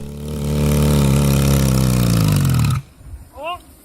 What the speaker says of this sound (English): a motorcycle isn't supposed to be making this noise